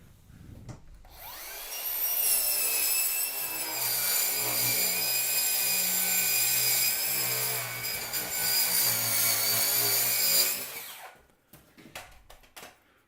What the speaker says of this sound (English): that Makita saw is really one of the best saws I've ever had that were battery operated